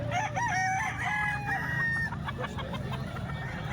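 A rooster crows loudly at close range amid clucking chickens offered for sale, including a white choco and a kanawayan bird, followed by scattered short clucks and background barnyard noise.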